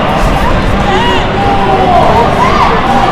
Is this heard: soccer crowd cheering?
yes